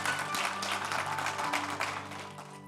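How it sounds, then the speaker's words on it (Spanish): A church congregation applauds during a Spanish-language worship service, a sustained wash of clapping with steady organ or keyboard tones held underneath, fading slightly toward the end. "denle un aplauso fuerte al Señor"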